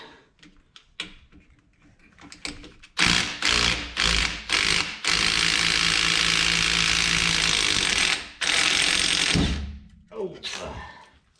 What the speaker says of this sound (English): I'm gonna take these nuts out.